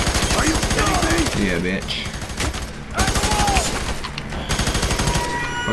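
Sustained bursts of rapid automatic gunfire in the video game F.E.A.R. 3 fill the scene with loud repeated shots, while a player talks over the shooting.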